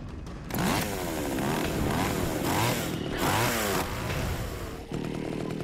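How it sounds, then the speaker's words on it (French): A chainsaw in the Splatterhouse game on Xbox 360 revs loudly and continuously, with rising and falling engine pitch and clattering bursts, running with no pauses for about five seconds before dropping off near the end. "Allez, hop, la tronçonneuse."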